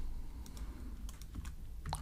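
Typing on a computer keyboard, a quick run of soft, close key clicks in short bursts over a quiet background.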